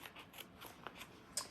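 Tiny sharp scissors snip around embroidery backing on a dad hat, a series of faint, crisp little cuts in an irregular rhythm, quiet and close.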